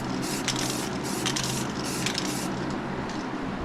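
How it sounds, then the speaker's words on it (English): Rust-Oleum white primer spray paint hissing from an aerosol can onto a Glock handgun in short bursts, close and steady, with a low background hum throughout. "We'll be adding some white primer."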